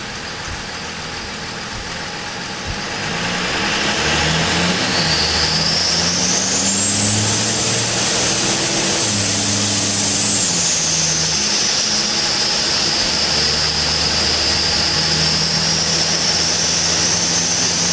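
A dyno roll-on test of an engine fitted with a BorgWarner S362SXE turbo, 68mm turbine and .70 A/R housing: a steady engine drone swells after a few seconds, with a rising and falling turbo whine layered above, loud and close.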